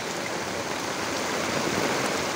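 Loud, steady rushing of typhoon floodwater, a broad continuous roar like a swollen river flowing close by.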